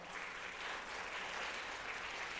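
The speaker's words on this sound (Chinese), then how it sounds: "拍手拍手拍手拍手" Congregation at a church service applauding, dense sustained clapping from a crowd throughout, steady and fairly distant.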